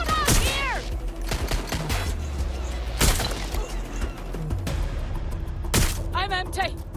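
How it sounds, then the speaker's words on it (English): Gunfire in the video game Watch Dogs: Legion, loud close sharp shots and cracking impacts repeating through the clip over a voice speaking. "I'm getting shot out here!"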